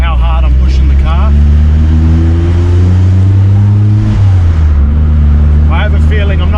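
A Toyota Celica RA40 engine pulls under partial throttle, its loud, rising drone climbing in pitch, dropping at a gear change around four seconds, then climbing again, with someone talking over it.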